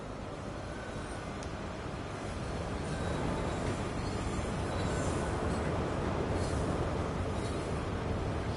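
Class 43 passenger train pulling away in the Train Sim World video game, a loud, steady rumble of engine and rail noise that swells slightly as it gains speed, with no voice.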